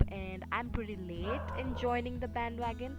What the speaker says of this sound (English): You can probably hear my dog barking in the background.